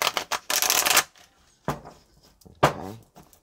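A deck of playing cards is riffle-shuffled in a quick, loud burst of fluttering snaps, followed by two shorter card riffles after a pause, all close and clear with no talking.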